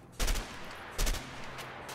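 Two loud shotgun blasts in the video game A Way Out, each a sharp, booming report with a short decaying tail, spaced about three quarters of a second apart, followed by faint lingering ambience.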